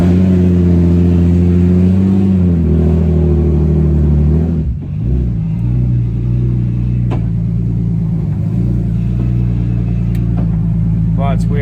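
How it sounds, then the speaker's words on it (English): A rally-spec BMW with straight-cut gears drives and shifts, its engine droning loud and close with a steady whine, a brief dip at a gear change, then pulling on again while people talk over it inside the car. "Because those straight cut gears make that noise."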